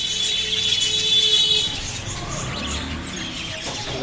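Caged pet budgerigars chirp in a bird shop, thin high tweets clustered early and fading, under a noisy background with faint passing traffic rumble.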